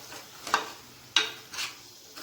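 A spoon stirs potato curry in a pan in three short scraping strokes, with a quiet sizzle underneath.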